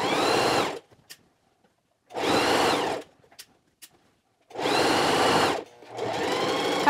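A sewing machine stitches a knit neckband onto a garment in bursts, three long runs of steady whirring separated by quiet pauses with small clicks, close and loud with no talking.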